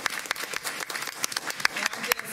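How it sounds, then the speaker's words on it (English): A brief round of applause in a school board of education meeting, scattered hand claps from a modest group, moderately loud, with a voice speaking over it. "let's give this team another round of applause and thank them for their leadership"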